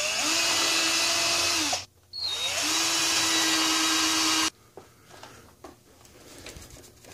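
Power drill driving self-tapping screws into a TV wall mount, two loud sustained whirring bursts with a short pause between, then the motor stops and faint handling noises follow.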